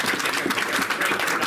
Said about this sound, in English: I'd like you all to give a little round of applause to Greg